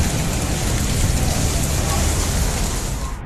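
Heavy rain from Cyclone Michaung pours down in Chennai as a dense, continuous hiss of drops on surfaces, loud and steady with a low rumbling undertone throughout.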